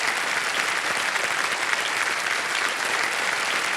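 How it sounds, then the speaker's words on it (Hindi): Studio audience on a Hindi TV quiz show applauding a contestant, a steady dense wash of clapping that holds evenly loud throughout without letting up. "तालियां बज जाएं इनके लिए"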